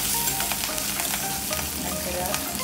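Curry leaves and finely chopped green chillies fry in hot oil in a small tempering pan, giving a dense, continuous sizzle with crackles and faint stirring clicks, close and steady throughout with no voices.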